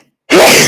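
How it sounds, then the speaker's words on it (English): A single loud sneeze blasted straight into a microphone, starting abruptly after a short silence and holding a harsh, breathy burst to the end. "I'm going to sneeze."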